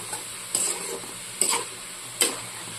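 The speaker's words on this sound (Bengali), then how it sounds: "আমি এবার সুন্দর করে এটা নাড়াচাড়া করে মশলাটা ভেজে নেওয়ার চেষ্টা করব" Spices sizzle softly in a kadai for a cabbage and small-shrimp chorchori while a spoon stirs them, with three distinct scraping strokes over a steady low frying hiss.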